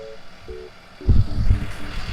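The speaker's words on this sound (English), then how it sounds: "that's a loud truck" A nearby truck's reversing alarm beeps in a steady rhythm before a loud, rumbling engine surges up and drowns the beeps, with faint repeated tones still under the noise.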